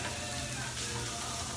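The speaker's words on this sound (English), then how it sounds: "we're gonna let the chorizo fry up a little bit, really good" Chorizo frying in a pan gives off a dense, loud, crackling sizzle that holds steady and close throughout.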